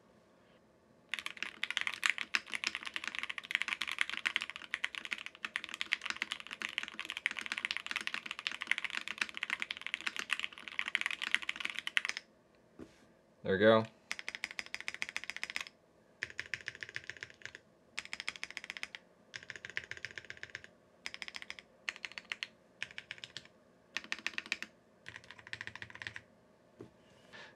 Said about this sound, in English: Based on my quick 100 word typing test